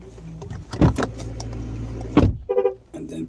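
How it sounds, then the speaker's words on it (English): A car engine hums at idle under a couple of sharp clunks, then cuts out, leaving a few light clicks and mechanical ticks in the quiet that follows. "let me turn the car off"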